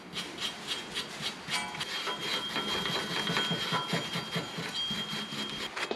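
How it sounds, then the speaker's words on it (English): A small wire brush scrubs the brake hub of a 2012 Acura TSX Special Edition in rapid back-and-forth strokes, making a close, rhythmic, gritty rasping that runs continuously. "I'm going to take a little wire brush, clean this up."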